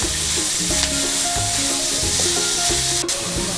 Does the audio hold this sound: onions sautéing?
yes